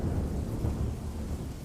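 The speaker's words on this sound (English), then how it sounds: "the sound of rain beating with heavy drops against her window" Thunder rumbles low and heavy under pouring rain in a short, continuous storm effect, dense and close with no voice over it.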